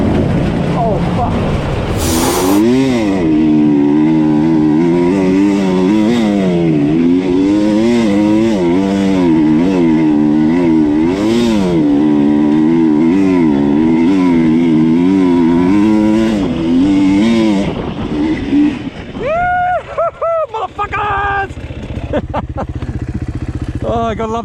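A motorcycle pulls hard through third gear, its loud engine note climbing and dropping in repeated sweeps for about twenty seconds before cutting off, followed by brief voices and clatter.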